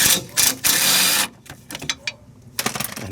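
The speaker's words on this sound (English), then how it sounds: "You do not need an impact, but I'm going to use it just to speed things up." An impact wrench works a 14 mm bolt on the rear suspension of a 1992-2000 Honda Civic, firing in three loud, close bursts with short gaps before it falls to scattered metallic clicks and light handling noises.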